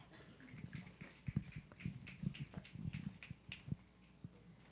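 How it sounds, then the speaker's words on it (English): Scattered finger snaps from an audience at a live-streamed talk, faint and irregular, a loose patter of small clicks spread over a few seconds with no speech. "Please take a moment with the finger snaps and the jazz hands to please welcome on."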